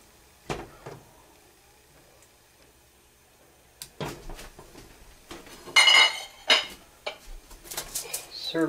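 After a quiet start with a couple of isolated knocks, a ladle clanks and scrapes against a pot and bowl as cheesy ham and potato soup is dished up, in irregular, close, clattering bursts with no voices.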